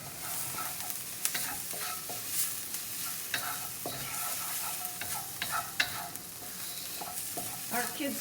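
Garlic fries in oil in a pan while a spoon stirs it, a soft continuous sizzle broken by frequent scraping clicks and taps, close and fairly quiet, with no talking.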